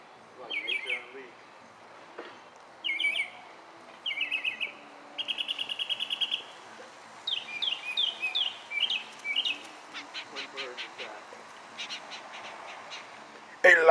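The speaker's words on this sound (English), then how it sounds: "this is when birds attack" Birds chirp and sing in a yard, close and clear, with repeated rapid bursts of tweets and trills following one another with short pauses.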